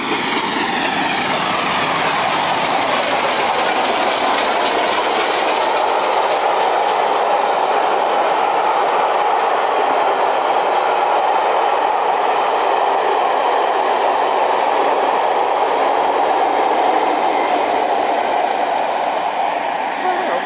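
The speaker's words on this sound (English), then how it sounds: "We saw the Flying Scotsman coming up now." The Flying Scotsman steam locomotive passes beside a loch, a loud, steady rumble with rhythmic clickety-clack of wheels on rail lasting throughout, close to the listener, with voices faintly mixed in.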